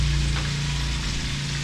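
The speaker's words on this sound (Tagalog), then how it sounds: "Yan, last na prito." Salmon frying in a pan, a steady, dense sizzle and crackle of hot oil at close range with a low hum beneath, unbroken and without talk.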